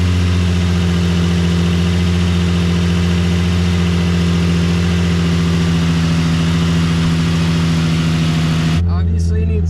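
A Nissan 350Z, sitting unused for two years and running on old fuel, starts and idles with a steady, loud engine hum close by, then cuts off abruptly near the end.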